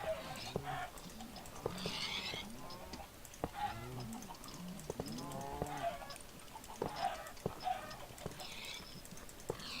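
Animal sounds from an arcade video game where chickens and other farm animals are shot for points, with clucks, hoof clops and whinny-like calls tumbling over a steady game soundtrack across the clip.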